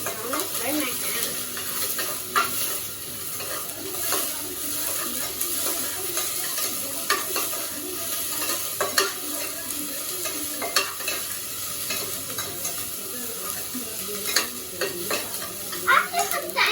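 Ingredients frying in a cooker while being stirred, with a steady crackling sizzle and scraping spoon strokes against the pot, continuous and fairly close.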